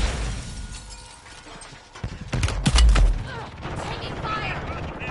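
Rapid automatic gunfire bursts and explosive blasts from a Call of Duty Modern Warfare 3 match, loud and dense around the middle, with game voices and battle noise continuing around them.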